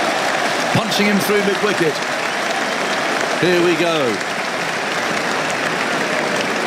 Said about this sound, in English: Listen to the crowd. This is the most animated I think they've been throughout the game so far.